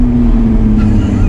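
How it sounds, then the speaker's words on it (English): 2021 Lotus Evora GT engine during a manual downshift, a loud, close, steady droning hum that lifts briefly near the end. "And then the downshift,"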